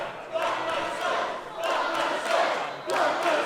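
A wrestling crowd at a live pro-wrestling show, Slammasters Wrestling's Back to the Banking Hall, roars and cheers in swelling waves across the hall, with several loud surges and a continuous dense wash of voices.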